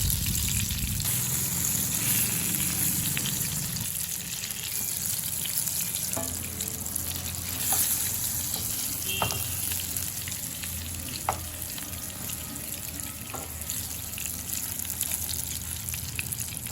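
Eggplant pieces fry in oil with a steady sizzle and crackle throughout, a close, continuous frying hiss with occasional sharper pops and faint stirring clicks.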